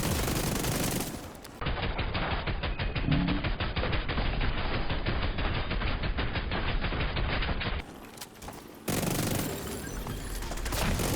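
Sustained automatic gunfire in The Division 2, a loud, rapid, continuous burst of shots lasting several seconds, with short pauses at either end.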